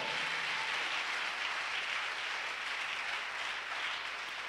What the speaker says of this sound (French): Oh, give the Lord a big clap offering.